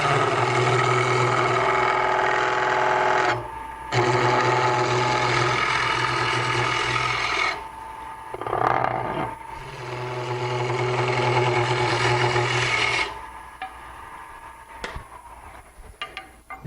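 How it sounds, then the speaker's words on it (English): Wood lathe with a chisel cutting into spinning wood during furniture turning: a steady, loud continuous whir and scrape in long sustained passes, broken by brief pauses where the tool lifts off, with no talking. "I want you to listen to the chisel."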